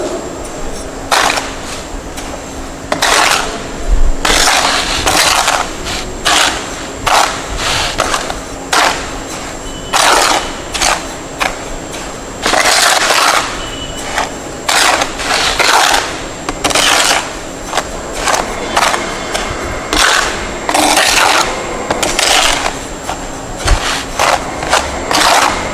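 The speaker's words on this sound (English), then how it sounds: "I am going to dry mix the cement and fine aggregate sample." Cement and fine aggregate dry-mixed by hand for a mortar sample, giving repeated gritty scraping strokes in an irregular rhythm over a steady background hum, close and fairly loud throughout.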